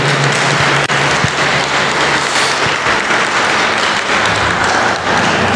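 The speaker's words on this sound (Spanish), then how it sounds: "Un aplauso" Loud, dense applause from an audience at a religious conference on the Virgin of Guadalupe, filling the whole stretch with a steady wash of clapping.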